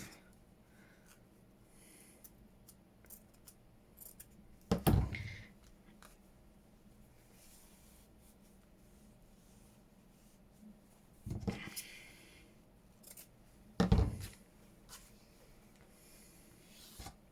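Paper being cut by hand for a junk journal envelope project, three short crisp snips spaced apart in an otherwise quiet room with faint rustling between them.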